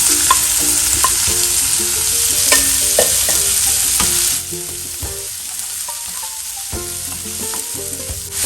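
Chopped onions and cumin seeds sizzle in hot oil in a pan while cooking chole. A steady loud fry runs under repeated scraping stirs, then the sizzle drops sharply partway through and continues more quietly with occasional clinks.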